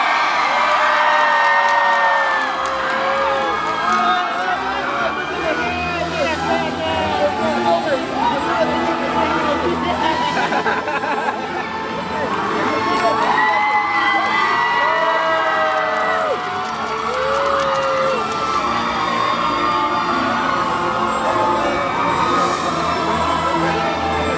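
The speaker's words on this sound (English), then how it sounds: "My lords, my ladies, raise a cheer for your knights of the realm." A large crowd cheers for the knights at a Medieval Times jousting show, with loud sustained whoops, shouts and children's yells over a continuous din, as an announcer's voice carries through the arena.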